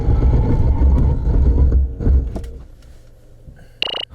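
A 2019 Nissan Altima, 2.5 or 2.0T, undergoes a braking test. Loud engine and road rumble fade quickly as the car slows to a stop, followed by a short, sharp high-pitched squeal near the end.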